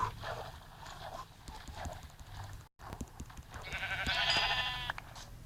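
Sheep bleating in the pocket edition of Minecraft, a wavering bleat rising near the end over a bed of footstep-like clip-clop noises, moderately loud with no speech.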